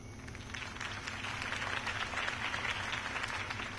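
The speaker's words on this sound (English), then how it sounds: "could have heard that applause" A crowd applauds steadily, many hands clapping together in a dense, sustained wash of sound that holds at an even level throughout.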